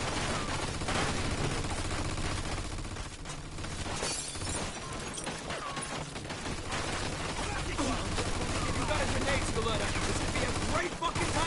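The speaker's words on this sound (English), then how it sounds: "Looks like we found the machine gun." Machine gun firing in Mafia II: Definitive Edition, a continuous chatter of automatic gunfire with shattering glass and impacts, loud and dense throughout, with voices shouting beneath the shooting.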